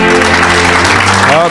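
Dense clapping from a church congregation mixes with sustained voices and crowd noise, a loud, steady wash of applause throughout.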